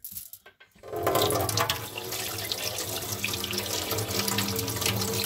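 Tap water runs steadily into a sink while stone amulets are washed, a close rushing splash beginning after a second of soft handling sounds and continuing to the end.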